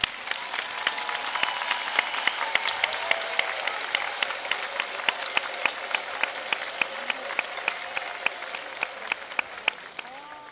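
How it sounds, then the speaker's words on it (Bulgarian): Audience applause at a folklore festival in Plovdiv, a dense, sustained crowd clapping with sharp individual claps standing out, continuing steadily throughout. "По-силни аплодисменти, моля."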